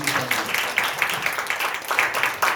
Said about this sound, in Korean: 말씀 감사하다고 두 분을 위해서 박수로 좀 보내주셨으면 좋겠습니다.